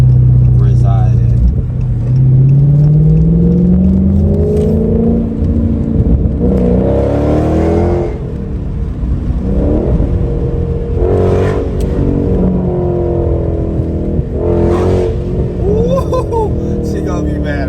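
A V8-powered muscle car downshifts and accelerates, its engine rumbling loud and close with rising revs, while people talk and laugh over it inside the cabin.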